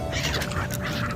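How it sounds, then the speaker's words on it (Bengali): Birds calling on the Yamuna river at Vishram Ghat in Vrindavan, a steady flurry of quacking, goose-like cries rising over a constant hum of water and boat noise. "এই যে পাখিগুলো তোমরা দেখছো"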